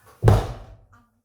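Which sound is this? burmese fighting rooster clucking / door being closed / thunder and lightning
door being closed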